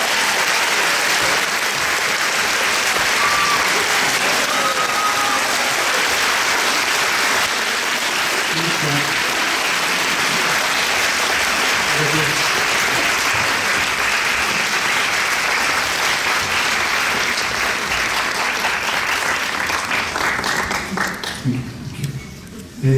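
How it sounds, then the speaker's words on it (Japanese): An audience gives a long burst of dense applause as a guest is welcomed on stage at a Japanese film premiere event, loud and continuous for about twenty seconds before tapering off near the end. "大きな拍手で"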